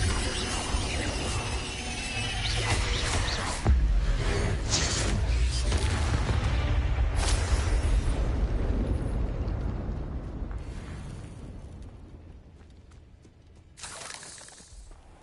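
Explosion spells from the video game Hogwarts Legacy go off as a run of booming, crackling blasts with shattering debris, heavy and dense at first and then thinning out before one last burst near the end.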